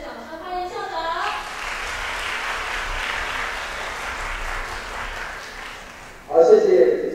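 A school audience at a junior high percussion band concert applauds to welcome the principal, with steady moderate clapping for about five seconds before a voice starts speaking over a microphone.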